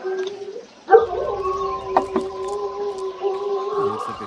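A dog howls in the Blair Witch horror game, a long wavering tonal cry with a few short yips, fairly close and steady over a soft background.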